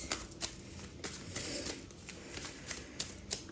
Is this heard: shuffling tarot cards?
yes